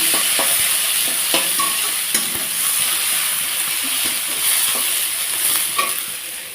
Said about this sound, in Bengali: পেঁয়াজটাকে একটু হালকাভাবে লাল করে নিয়ে টমেটোটা দিয়ে দেবো